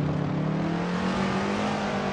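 In Assetto Corsa on the Nordschleife, a Shelby Cobra's engine roars loud and steady, holding a deep, rough drone under throttle throughout the short stretch.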